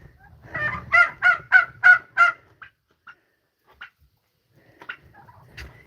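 Turkeys and other fowl calling on a farm at bedtime, a run of five loud honking calls close by, then scattered fainter clucks and squawks with quiet gaps between them.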